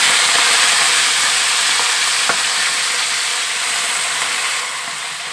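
Chopped spinach fries in hot oil with a steady, loud sizzle and hiss that keeps going without a break, easing off slightly near the end.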